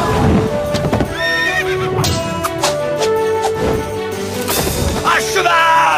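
Horses whinny loudly and repeatedly over pounding hooves at a gallop, a busy, close, energetic scene with clattering movement throughout.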